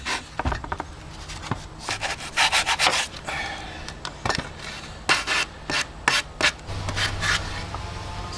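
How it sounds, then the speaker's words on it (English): Repeated rough rubbing strokes of a sanding block on the cut ends of lumber, in uneven bursts of scratchy friction, close and fairly loud. "we take our sanding block and sand the ends of the fuzzies"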